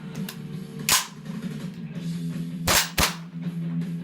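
A WE XM177 gas blowback airsoft rifle fitted with a real steel spring and buffer fires sharp cracks: one early, then two quick shots near together, close and loud over a low hum.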